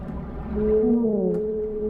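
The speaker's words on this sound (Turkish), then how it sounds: "Balinam." A whale vocalizes underwater in the video game GTA 5, a drawn-out tonal moan that bends up and down in pitch, with nothing else alongside it.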